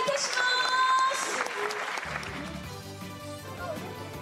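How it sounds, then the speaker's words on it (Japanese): An audience applauds at the opening ceremony of a renewed prefectural space science museum in Saga. Dense, even clapping fills the room at moderate volume while voices and tonal sound run over the start. "大きな拍手をお願いいたします。"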